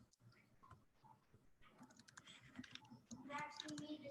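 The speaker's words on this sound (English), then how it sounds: "the beginning is always just filled with the sound of keyboards" Computer keyboards typing at the start of an online interview, faint and quick clicking that grows denser and louder toward the end, with low voices in the background.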